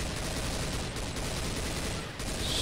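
Rapid gunfire fills a Left 4 Dead match, a dense continuous burst of shots mixed with game action, with no gaps across the short stretch.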